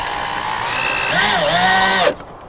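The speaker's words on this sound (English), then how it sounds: "you want to just screw your base plates down to your main base, like so" A power drill drives 2.5-inch deck screws through base plates into the main base while building sauna walls, a steady motor whine rising and bending in pitch for about two seconds before stopping abruptly.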